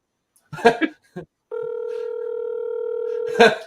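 A telephone call goes unanswered, with a single long, steady ringback tone of about two seconds sounding after a few brief spoken words.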